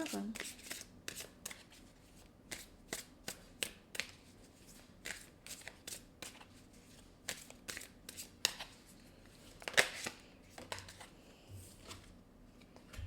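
Light Seers oracle cards being shuffled by hand, a close series of soft, sharp riffling slaps and flicks in an uneven rhythm, with faint talking present in the background.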